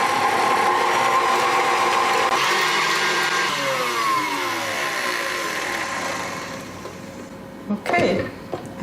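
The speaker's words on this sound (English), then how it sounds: "And I mix this until the sugar has dissolved." An electric mixer whirs steadily while beating eggs and sugar, a loud continuous motor drone that slowly shifts pitch, ending with a few clattering bumps near the end; no voices over it.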